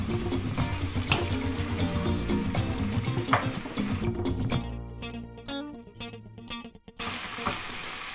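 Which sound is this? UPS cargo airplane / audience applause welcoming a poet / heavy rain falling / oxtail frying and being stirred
oxtail frying and being stirred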